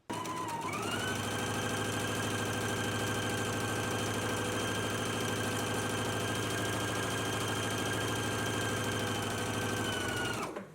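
Sewing machine running at steady speed while stitching a garment's center crotch seam, a continuous motor whine and rapid needle rattle that hold unbroken from start to finish, close and loud with no talking.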